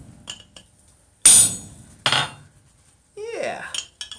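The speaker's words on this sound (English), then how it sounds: "Now I'm just going to go ahead and shear this through." Hot steel sheared through on a forge while making a chased bottle opener, giving two sharp broadband bursts about a second apart, followed by a ringing metallic scrape, close and loud with no talk.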